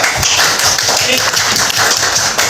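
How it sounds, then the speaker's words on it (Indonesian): Classroom of fourth-grade pupils clapping for their teacher, a dense, steady patter of many hands close by, with chatter and voices mixed in throughout. "Tepuk tangan untuk Bapak"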